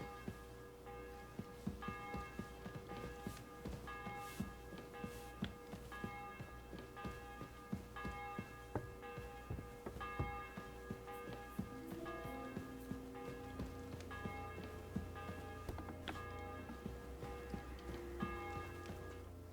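A tolling bell in Kingdom Come: Deliverance 2 rings repeatedly at a steady rhythm, sounding under a busy game score with sustained tones.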